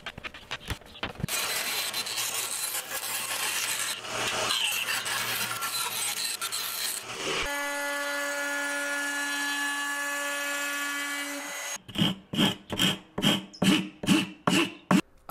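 Excess carbon fiber trimmed from around a guitar body with a high-pitched power cutting tool, a loud sustained whine that shifts into a steady tonal hum, then a run of short pulsing grinding bursts, no voices.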